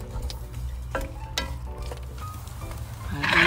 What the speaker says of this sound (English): Look at this nice sizzle going on.